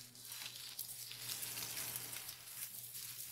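Batter frying in an oiled pan, a soft, steady crackling sizzle with gentle swells, close but quiet, no talking.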